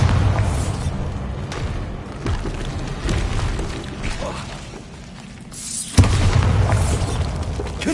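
A Bombarda spell blast in the video game Hogwarts Legacy, heavy booming detonations with rumbling low-end decay, one big impact near the end after a quieter lull, loud and alone.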